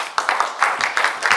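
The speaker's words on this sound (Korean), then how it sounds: "강승진 센터장님 나오시면 박수 좀 부탁드릴게요" A few scattered claps rise into the start of applause from a forum audience at a civic event on cultural district development, welcoming a center director to the stage. The claps are brief, close and uneven.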